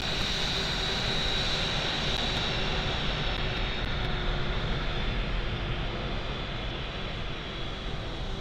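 An American Airlines jet airliner taking off gives a continuous, steady engine roar at moderate distance and holds the same level throughout.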